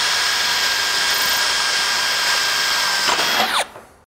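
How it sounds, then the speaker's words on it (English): A steady high-pitched power drill runs continuously while pre-drilling a hole in standing seam metal roofing flashing, then winds down with a falling whine and stops. "And then we're gonna pre-drill the hole on the boxed end."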